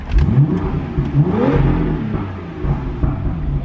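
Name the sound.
car engine revving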